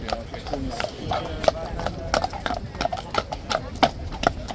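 Hooves of King's Guard horses from the Blues and Royals, one 18.2 hands tall, clip-clop steadily on a hard surface as they walk past, with a crowd chattering underneath.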